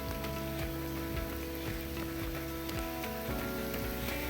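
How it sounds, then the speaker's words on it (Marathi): Heavy rain pours steadily during an outdoor run, a dense continuous hiss of drops with faint ticking hits, with no talking. "पाऊस खूप वाढलेला आहे"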